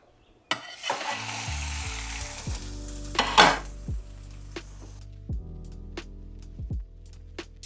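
An aubergine omelette sizzles in a hot pan, then gets flipped. Crackling frying runs under a series of sharp pan knocks and scrapes, with a louder hiss burst midway as it turns over.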